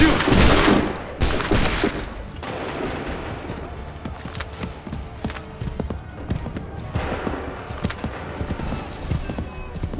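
Volley of musket gunfire in Assassin's Creed III, a loud burst of shots at the start, then another sharp crack, followed by scattered shots and battlefield clatter, with horse hooves and shouted orders.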